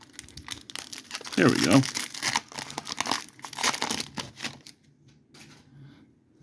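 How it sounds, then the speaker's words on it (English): A Spider-Man Magic card pack's foil wrapper torn open by hand, close and crinkly, with a loud rip and rustling, then quieter shuffling of cards as a person speaks briefly. "I'm going to try to open these without cutting them open."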